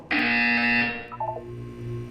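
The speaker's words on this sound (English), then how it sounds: "You will hear a buzzer." A loud, harsh electronic buzzer in the game Portal 2 blares for about a second, then cuts off, followed by a short series of lower electronic tones.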